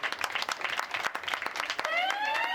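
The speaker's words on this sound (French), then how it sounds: "Applaudissez!" Audience at an art school event breaks into lively clapping, loud and close with overlapping hand strikes, then a rising tonal whistle-like sound cuts in near the end over the crowd.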